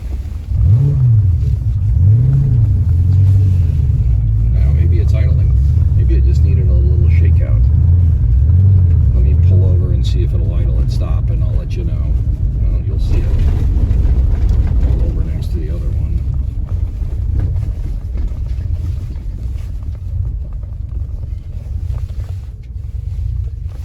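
A 1982 Porsche 928's engine idles very low and steadily with a heavy rumble, loud and close, while a person talks over it at times.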